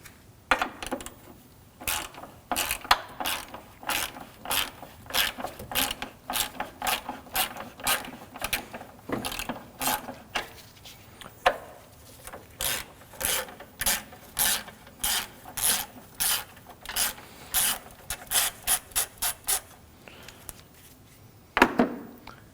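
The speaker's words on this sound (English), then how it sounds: "Now we'll remove the battery tie down using a 10mm socket." A ratchet with a 10mm socket clicks rapidly in repeated bursts while loosening the battery tie-down nuts on a 2013-2015 Subaru XV Crosstrek 2.0L H4, close and crisp, with brief pauses between strokes.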